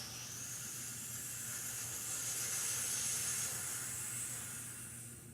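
Slow, deep breathing in and out, heard as a long steady airy hiss that swells gently and fades, close and alone with no other sounds.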